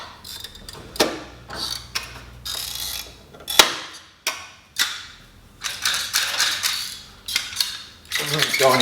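A hand pop rivet gun works rivets on a Datsun 260Z coupe body, making close, repeated ratcheting squeezes and scraping metallic clicks in irregular strokes, with occasional sharper snaps.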